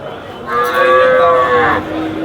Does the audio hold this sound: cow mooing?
yes